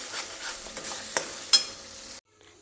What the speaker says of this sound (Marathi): मी इकडं आता मसाला परतत टाकला आहे मसाला एकदम मस्त परतून घ्यायचा